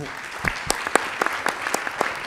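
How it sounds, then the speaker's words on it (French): An audience claps for the two hosts at a Nuit des Idées evening at the Institut Français in Madagascar, a moderate round of hands with distinct sharp claps popping out of the steady patter. "On peut applaudir les deux animateurs"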